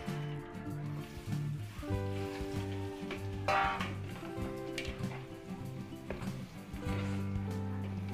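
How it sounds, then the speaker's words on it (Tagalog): Quiet bubbling and sizzling of bananas frying in oil, steady throughout, with faint clinks from the pan. "Tapos prito na po natin yung saging."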